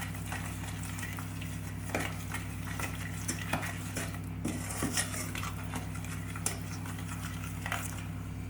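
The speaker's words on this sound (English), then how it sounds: "Keep stirring it till all that butter dissolves." Butter being stirred in a pan as it melts for vegan flapjack, with soft, irregular scrapes and clinks of a utensil against metal over a steady low hum from the stove.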